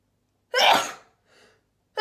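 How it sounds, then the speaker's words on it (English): A single loud, close sneeze bursts out, followed by a fainter short exhale and the start of another sneeze at the very end. "I always sneeze thrice."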